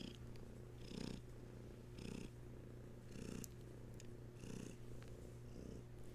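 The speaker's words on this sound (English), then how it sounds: "Those are some deep purrs there, Katie." A cat purrs in deep, steady rhythmic cycles, each breath swelling and fading about once a second, close and continuous with no talking over it.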